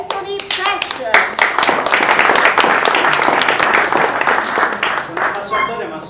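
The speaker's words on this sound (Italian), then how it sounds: "un bel applauso per Anthony Petz" An audience at an Italian event gives a warm round of applause, loud, dense hand clapping that starts with a few claps, swells quickly and holds steady before tapering at the end.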